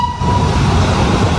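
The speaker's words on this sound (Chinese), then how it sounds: "火车终于顺利经过林森西路国华街口" A forest railway train rumbles past a manually operated level crossing at Linsen West Road and Guohua Street in Chiayi, loud and close, with a brief high tone at the start.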